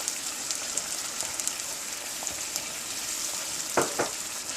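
Onions frying in a pan for shahi paneer as tomato puree goes in, giving a steady close hiss and crackle and then a couple of brief louder sizzling bursts near the end.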